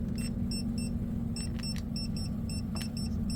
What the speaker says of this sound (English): So let's see how close we can get when it starts beeping.